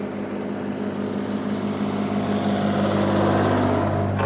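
A Rictor Ace electric scooter climbs a long hill at full throttle in sport mode, giving off a loud, steady motor whine and rushing wind noise that build slightly toward the end, with no speech.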